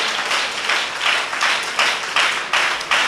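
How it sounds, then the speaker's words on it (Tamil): A church congregation claps together in steady, sustained applause, a dense wash of hands filling the room at even loudness throughout, with no voice over it. "ஒரு கைத்தட்டல் கொடுங்க கர்த்தருக்கு."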